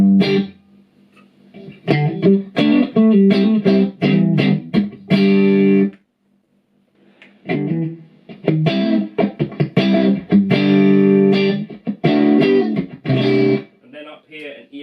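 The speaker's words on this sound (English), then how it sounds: "Not tons of reverb. It's like a room sort of reverb." Distorted electric guitar through a handwired Bad Cat Cub V amp with EF86 preamp, bursts of chords and picked phrases with a short roomy reverb, a pause in the middle before playing resumes.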